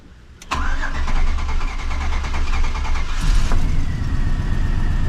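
A Chevy Silverado's freshly installed budget engine cranks briefly, then catches and settles into a loud, steady, rumbling idle that runs close and continuous to the end.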